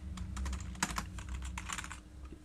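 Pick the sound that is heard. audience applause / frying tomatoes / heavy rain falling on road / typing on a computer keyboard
typing on a computer keyboard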